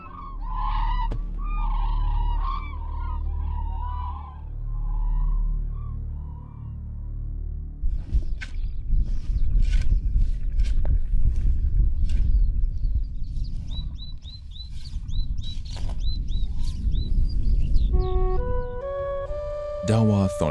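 A flock of cranes calls on the high plateau of the roof of the world, repeated honking cries at first, then scattered calls and rustling amid noisy commotion, ending in bright tonal notes; narration is heard.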